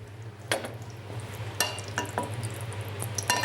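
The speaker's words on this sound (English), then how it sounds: "Olive oil into the pan." Olive oil heating in a frying pan gives a steady close sizzle with a low hum beneath, punctuated by a few sharp clinks and scrapes of a utensil against the pan.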